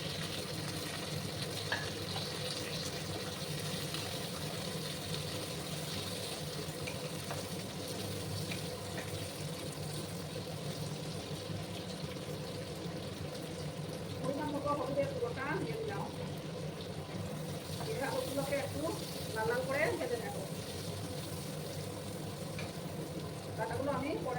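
Potatoes fry in a pan for a fish curry, giving a constant low sizzle with occasional stirring scrapes and small bubbling bursts toward the end.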